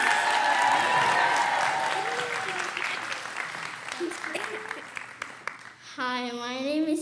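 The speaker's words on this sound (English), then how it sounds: "Let's give her a big encouraging round of applause." Audience applause fills the room at a literacy center's annual fundraising dinner, a dense sustained clapping that fades gradually before a voice begins speaking near the end.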